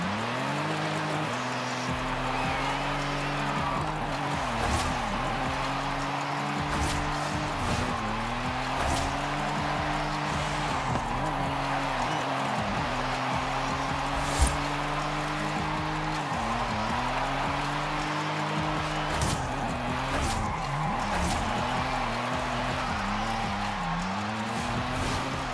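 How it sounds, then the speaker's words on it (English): Car engine revving and wailing through repeated rises and falls as a car drifts in Forza Horizon 5, with intermittent tire squeal, loud and continuous over about 25 seconds with no speech. "let's go ahead and jump straight into the drifting"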